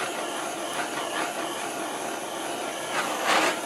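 A small torch burning against steel and brass while thin solder heats, a steady broad hiss and roar with a few brief louder surges, close and continuous with no talking.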